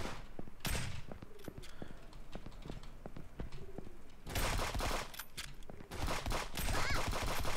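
Gunfire in a shooter video game with power-up cards: scattered sharp single shots and short bursts, some near and loud, others lighter, with no voices.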